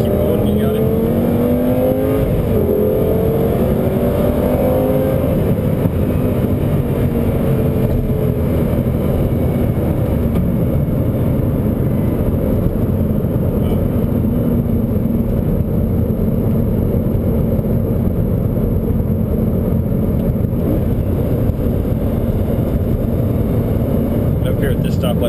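Lamborghini Gallardo on a test drive reaching high speed, its engine a dense, loud roar with rising revs early on, then a sustained rumble and road noise heard from inside the car, with people talking beneath it.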